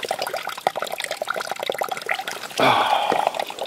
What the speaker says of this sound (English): drop the flashlight right in the water